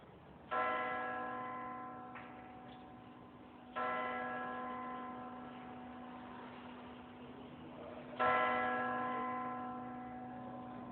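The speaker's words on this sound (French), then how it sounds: "Le baptême des cloches de la cathédrale de Fort-de-France." Three deep cathedral bell strikes ring out at wide intervals in Fort-de-France, each rich harmonic tone swelling loudly and then decaying slowly over a steady low hum.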